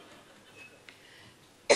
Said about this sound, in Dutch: En zo kucht ze serieus.